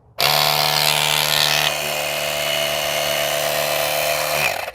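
Built-in air compressor of an Auxito AJ01 portable jump starter runs with a steady, loud mechanical drone and pulsing hum, starting abruptly, easing slightly after a couple of seconds, then cutting off at the end.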